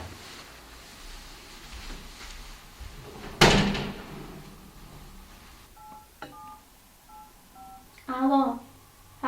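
A phone number is dialed on a telephone keypad in a home setting, giving a short series of faint beeping key tones after a loud door bang, with low talk and room noise around it.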